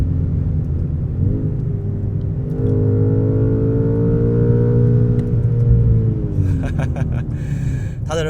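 A BMW M5 G90 with a 4.4-litre twin-turbo V8 drives along, its deep engine drone loud and steady, rising and falling in pitch as it pulls, with a brief clatter near the end.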